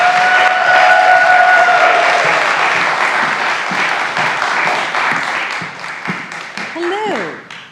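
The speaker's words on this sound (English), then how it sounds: "Give a huge round of applause for Nicole Keenan." Loud sustained applause from an audience at an award ceremony, dense clapping with a few whistles early on, gradually thinning toward the end as a voice begins speaking.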